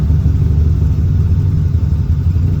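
A poorly running car engine idles with a steady low rumble, a loud continuous drone with no clear rise from a throttle crack.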